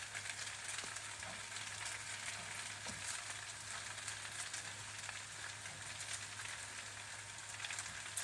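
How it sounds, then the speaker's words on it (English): Scallions and peanuts frying in a pan, a steady dense sizzle with faint crackles as the mixture is stirred, continuous and close with no talking. "Next, I'm going to add the scallions with that."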